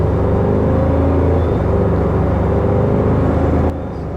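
Engine drone of a 2025 Toyota 4Runner TRD Off-Road with the i-FORCE MAX hybrid powertrain pulling in sport mode, a loud steady low rumble with road roar from inside the cabin, cutting off sharply at the end.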